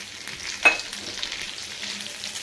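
Thin slices of small onion hit hot oil in a pan with a soft, continuous sizzle and one brief louder crackle as they go in, fairly quiet and without talk.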